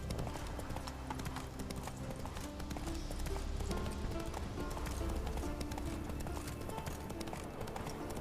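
Hooves of a horse galloping in The Witcher 3: Wild Hunt, a steady rapid clip-clop running throughout over a dense game soundscape of ambient music and effects.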